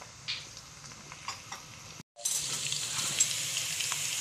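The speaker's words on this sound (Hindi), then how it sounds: "इन सब चीज़ों को मैंने अच्छे से भूनना है" Green chillies and whole spices fry in a pan for aloo palak, a soft sizzle with light ticking stirs, briefly cutting out midway before returning as a louder, steadier hiss.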